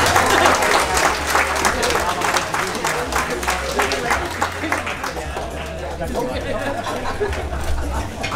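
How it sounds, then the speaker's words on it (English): Guests at a wedding applaud in a sustained burst of clapping mixed with cheerful chatter and a few laughs, a dense crowd sound that stays steady throughout. "Let's hear a round of applause, folks, please."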